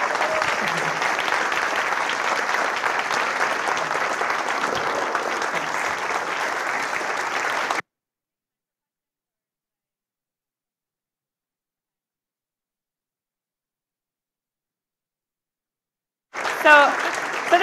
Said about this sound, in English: So this is awkward because you're all applauding the LibrePlanet.